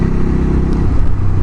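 A new motorcycle's engine revs hard through its aftermarket exhaust, a loud, steady low-pitched drone close by with a slight change in tone partway through.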